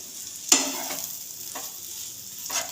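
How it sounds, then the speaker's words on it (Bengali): Chowmein with chowmein masala and tomato sauce gets stirred in a pan, a few distinct scraping strokes over a faint, steady sizzle. "চাউমিনটা দিয়ে এবার এটা মিক্স করব।"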